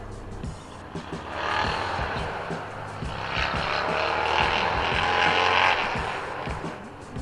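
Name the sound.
motorcycles passing by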